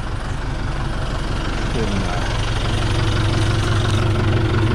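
A John Deere tractor engine idles steadily up close, a low continuous rumble with a constant drone and no voices over it.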